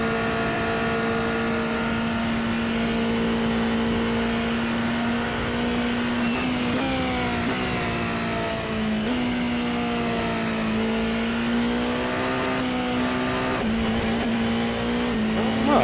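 Race car engine in a racing simulator game with traction control set low, droning steadily and loud throughout, its pitch rising and falling through gear shifts and revs, with no talk over it.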